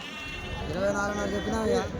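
Black male goats bleat at a weekly Tuesday goat market in Kadiri, a few wavering calls rising close by under steady talk from traders haggling over prices.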